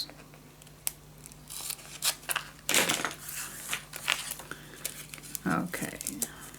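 Scissors cutting the corners of scrapbook paper, a handful of close, crisp snips and paper rustles, with soft talk alongside.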